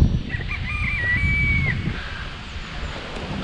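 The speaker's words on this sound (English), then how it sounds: "Oh, that rooster's coming for you" A rooster crows once in a long drawn-out call over steady outdoor background noise in the mountains near Zurich, Switzerland.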